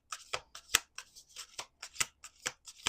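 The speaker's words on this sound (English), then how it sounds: "Last shuffle." A deck of tarot cards is shuffled in a quick rhythmic series of crisp riffling flicks and snaps, about a dozen bursts over a few seconds, close and fairly quiet with no talking.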